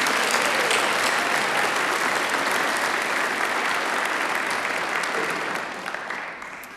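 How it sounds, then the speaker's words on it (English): A commencement audience applauds faculty at a doctoral graduation ceremony, a broad wash of steady crowd clapping that tapers off slightly toward the end. "let's give the faculty you are surrounded by a round of applause"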